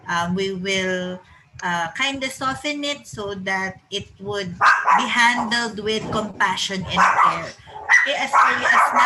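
A dog barks repeatedly in the background during a research protocol presentation, partly masked by a person speaking steadily in the foreground.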